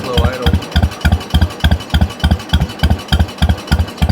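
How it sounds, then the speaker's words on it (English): John Deere 420 tractor engine turning over at a slow idle, a steady loud, even chug of regular low thumps, about three per second, close by with no talk. "show you my nice slow idle."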